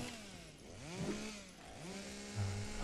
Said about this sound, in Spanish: Este piquito me parece interesante, que aparte incluye el gestito de la motosierra